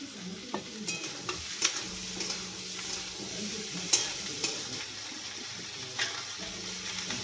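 Tomatoes stirred into frying onions in a pan, a steady low sizzle with scattered scraping clinks of a spoon against the pan at close range, no voices.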